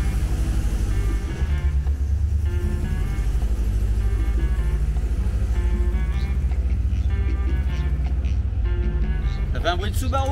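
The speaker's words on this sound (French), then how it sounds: "Ça fait un bruit de Subaru." A Porsche 356 Speedster replica engine drones steadily from inside the car with a low, constant rumble while people talk over it throughout.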